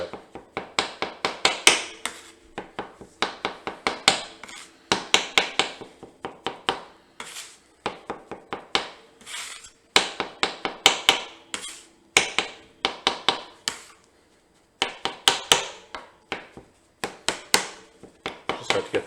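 A bench scraper chops repeatedly through sticky gnocchi dough on a work surface, giving quick bursts of close, sharp taps and scrapes in uneven clusters with short pauses between them.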